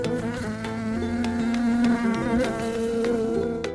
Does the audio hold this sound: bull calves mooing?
no